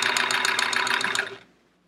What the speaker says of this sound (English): Seth, I am using a Kenmore sewing machine.